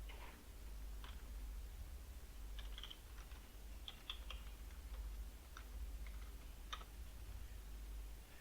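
Quiet, irregular key clicks from a computer keyboard, typed in short bursts with gaps, soft and close against a faint steady background hiss.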